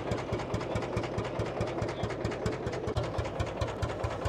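An old tractor engine idles at a tractor festival, throbbing in a steady, evenly spaced low knock with mechanical clatter, close and continuous.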